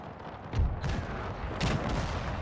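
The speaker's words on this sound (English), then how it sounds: "Cannon shots forcing the unit." Cannon fire from artillery in Napoleon: Total War with the Era Mod, two deep booms about a second apart over a continuous low rumble of distant battle, with no voices.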